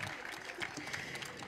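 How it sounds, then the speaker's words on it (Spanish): An audience applauds at a Senda 2023 "Continuo Preventivo" launch event, honouring the director of Escuela Superior Nueva Bilbao; a steady, dense patter of clapping runs throughout while a voice talks over it. "Que sea más fuerte ese aplauso para agradecer las palabras de la directora de la Escuela Superior Nueva"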